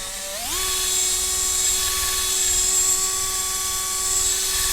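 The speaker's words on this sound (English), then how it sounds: "So got my drill bit here with a fluffy head, and this is literally just for finishing off." A drill fitted with a fluffy polishing head spins up on a Hoover 800 metal part. It rises quickly in pitch, then holds a loud, steady, high whine with a constant tone, heard alone and close.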